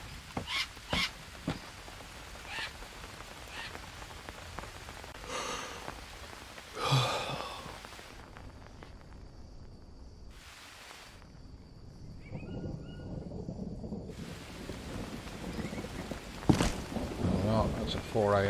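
Rain pours in the Green Hell video game as a steady, hissing downpour. A few louder bursts stand out, and someone talks over it at times.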